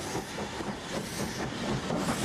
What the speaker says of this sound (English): The Andrew Barclay-built saddle tank propels a train to the summit